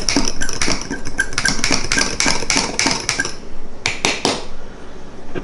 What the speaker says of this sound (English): put it right on top, mix that honey up a little bit